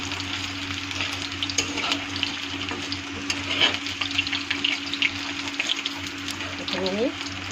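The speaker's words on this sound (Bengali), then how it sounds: "লাল লাল হয়েছে, দেখো সুন্দর ভাজা হয়ে গেছে" Pakoras frying in a pan give a steady, moderate sizzle with scattered clinks and turning sounds, a low hum underneath, and a voice talking intermittently over the cooking.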